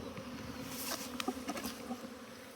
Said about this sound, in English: That's a bee drone.